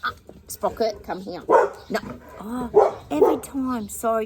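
A pet dog named Sprocket barks in short, sharp bursts scattered among a woman's close, lively talking, the yaps partly buried under her voice.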